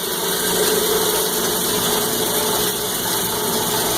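A Cumberland granulator, just switched off after chopping copper wire, keeps up a loud, steady mechanical hum and rumble as it winds down, with no voices over it.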